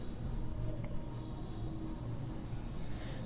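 Marker or chalk writing on a board during a maths lesson on circle areas, a steady soft scratching of strokes over about three seconds, with no talk.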